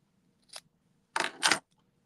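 Scissors snip through fabric scraps in a quick, quiet sequence: one short cut, then a pause and two closer, crisper snips back to back in a hushed room.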